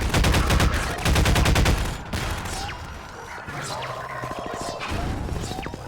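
Rapid automatic pulse rifle fire in Half-Life 2, two dense bursts of fast shots up front, then scattered impacts, crashes and mechanical clanks as the fight continues with a voice talking over it.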